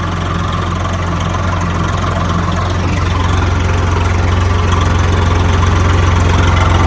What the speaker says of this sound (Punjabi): ਦੇਖੋ 1000 ਚੱਕਰਾਂ ਪਰ ਛੱਡਿਆ ਟਰੈਕਟਰ ਆਪਣਾ